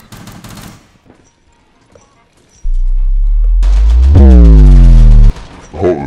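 Gunfire in the first-person shooter Rainbow Six Siege, with a burst of sharp shots early on followed by a loud, sustained rattle of automatic fire at close range, while a voice speaks briefly over the action.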